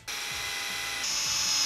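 A power drill drives screws into the flange of a curved shower wall panel, a steady high whine that starts abruptly and rises slightly in pitch as it runs, close and alone.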